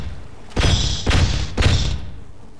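An object gets smashed in Half-Life, three heavy blunt thuds about half a second apart, each crashing in close and loud and trailing off into a short rattling decay.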